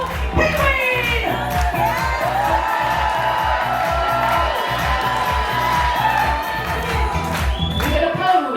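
Lively crowd cheering and whooping aboard the Virgin Voyages cruise ship Brilliant Lady, loud and continuous with excited shouts and harmonic voice streaks rising through the din, swelling near the end.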